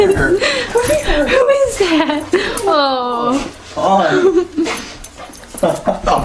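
A dog whines and whimpers with high, wavering cries during an excited homecoming greeting, mixed in with close, overlapping human voices and laughter.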